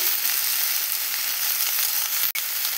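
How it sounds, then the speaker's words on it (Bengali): Pumpkin and potato pieces sizzle steadily while frying in a pan, a loud continuous hiss alone with no talk, broken near the end by one brief clack as they are stirred. "কুমড়ো আর আলুটাকে দিয়ে কিছুক্ষণ নাড়াচাড়া করে ভেজে নেব।"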